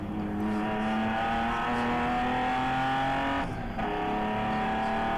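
A ChampCar endurance race car at Joliet accelerating, its engine note climbing and then briefly cutting out during a quick upshift before revving again, moderately loud over a steady background roar.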